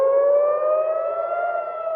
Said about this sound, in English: Air raid sirens in Jerusalem this morning